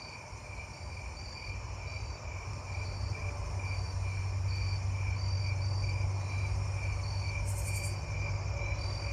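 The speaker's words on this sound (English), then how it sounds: "I'm hearing the narrow-winged and Davises side by side again." Narrow-winged and Davis's tree crickets chirp together outdoors, a steady high trilling with repeated pulsing notes over a continuous low background hum.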